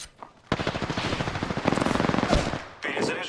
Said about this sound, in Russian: враги стреляют по мне